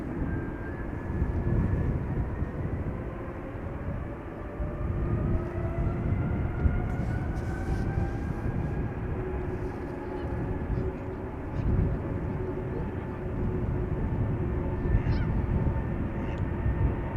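A jet airliner taking off at Schiphol Airport, heard from a distance as a steady, sustained roar with a rising engine whine that holds for the whole stretch.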